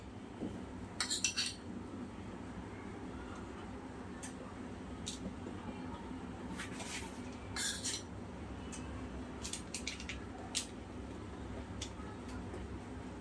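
A spoon clinks and scrapes while scooping hot chocolate peanut chikki mixture onto parchment paper, with scattered light metallic taps over a steady kitchen background hum.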